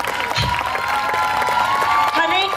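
A student audience at a school batch performance claps and cheers in a lively, sustained burst, with shouts and a voice carrying over the crowd noise.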